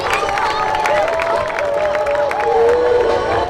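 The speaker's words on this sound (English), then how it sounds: "Let's get a big round of applause for our seniors and all our teachers and staff of Quincy High School." A large crowd at a Quincy High School football game against Plymouth South applauds and cheers steadily for the seniors and school staff, with voices and shouts layered over continuous clapping.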